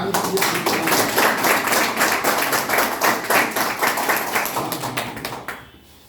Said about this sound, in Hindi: एक बार जम के तालियां बजाइए